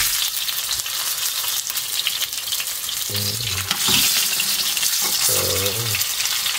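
Eggs fry in a pan with a loud, continuous close sizzle, with occasional scraping and stirring noises, and a voice speaks briefly over the frying.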